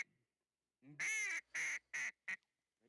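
Ducks at a waterfowl hunting spot in Alaska give four nasal, quacking calls, a long first one and then shorter ones, fairly close and clear against a silent background.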